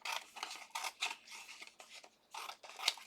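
Scissors trimming and cutting out an inlay die-cut paper tag, with a series of short crisp snips and rustles in irregular bursts, close and fairly quiet.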